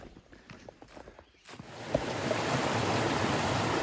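Laurel Creek flowing along a warm forest trail, a broad steady rush of water that swells in after some footsteps and crunching, then holds as a continuous close wash.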